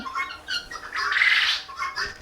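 A hen gives a few harsh squawks while laying an egg, ending in one longer, louder raspy cry, then softer calls; it sounds close by.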